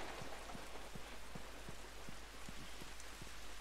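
Steady thunderstorm rain in The Last of Us, a soft, even hiss of rainfall with scattered drops pattering on surfaces, faint and continuous, with no voices.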